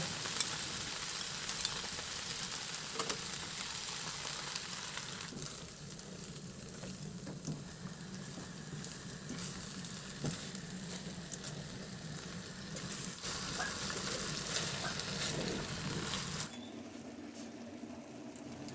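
Shrimp, mixed vegetables and sauce sizzle in a stir fry, a steady close crackle with occasional stirring scrapes that drops away sharply near the end.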